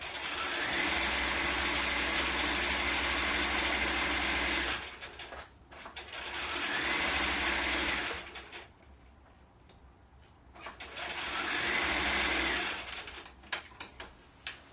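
A sewing machine runs in long mechanical bursts while stitching around a coat lining, pausing briefly between runs, steady and moderately loud with no talking.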